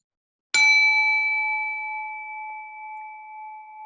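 One struck Tibetan bell rings out alone, its high partials fading quickly while a lower pure tone lingers and slowly decays.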